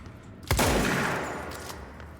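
A single heavy shotgun blast fires in the video game Control, a sharp loud crack followed by a long booming decay that fades over about two seconds.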